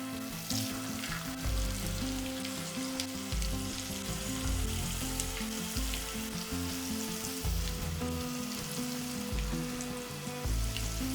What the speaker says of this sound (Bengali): এরপর এখানে দিয়ে দেব ম্যারিনেট করে রাখা পনির।